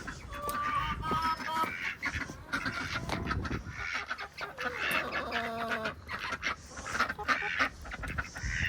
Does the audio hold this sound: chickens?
yes